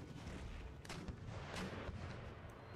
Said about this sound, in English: Got a lot of mortar shells landed on that cluster of units.